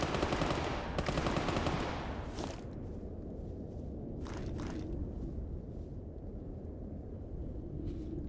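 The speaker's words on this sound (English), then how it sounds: "I can hear some gunshots." In the game Stalker Gamma, a rapid burst of automatic gunfire cracks nearby, followed by scattered single shots and faint, more distant firing over a low rumbling backdrop.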